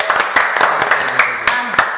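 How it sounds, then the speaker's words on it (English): A small group claps in a loose, uneven burst of sharp hand claps, fairly close and loud, with a few irregular spaced claps rather than sustained applause. "pero let's have a clap."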